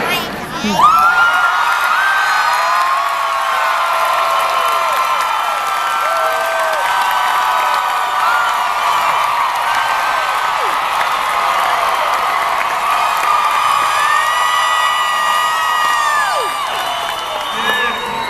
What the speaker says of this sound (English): Who claps and cheers the most gets to look at this bit.